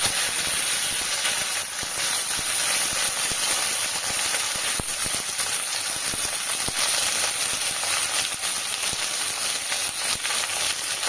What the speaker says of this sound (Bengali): ভেন্ডিটা আমি এখানে একটু হালকা করে ভেজে নেব